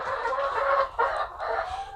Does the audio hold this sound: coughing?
no